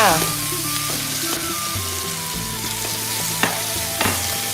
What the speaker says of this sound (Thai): ใส่พริกลงไปผัดพริกให้หอมค่ะทุกคน